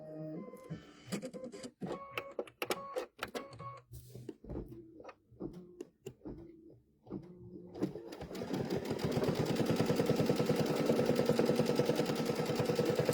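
A computerized embroidery sewing machine quilts a bench pillow in light pink thread, at first stitching in uneven bursts and stops, then settling into a steady, fast, continuous mechanical whir close by.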